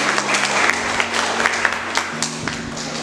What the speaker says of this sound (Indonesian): Kita beri tepuk tangan yang meriah kepada kedua paslon hari ini.